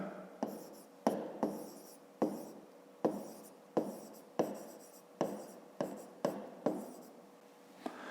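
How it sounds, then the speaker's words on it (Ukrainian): Pen writing on paper, a sequence of about a dozen short strokes in an irregular rhythm, each beginning with a sharp tap and trailing into a brief scratch, close and clear. "І запишемо в дужках батька"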